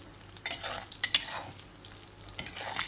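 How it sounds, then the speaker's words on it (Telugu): Urad dal and chana dal frying in a pan for Thotapuri mango chitrannam, a soft sizzle broken by scraping stirs and light clinks of a spoon against the pan, fairly quiet and close. "మినప్పప్పు కూడా వేగిపోతుంది."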